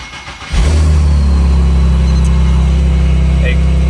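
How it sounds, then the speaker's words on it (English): A car cold-starts during a remote ECU tuning and datalogging session. After a brief quiet moment the engine cranks and catches, then settles into a loud, steady, close-up idle rumble for the rest of the clip. "Now go ahead and start the car."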